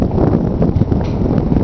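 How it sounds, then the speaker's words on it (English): Strong wind on Mount Saint Helens buffets the microphone with a loud, continuous low roar and rumble, steady and unbroken throughout. "But it is windy."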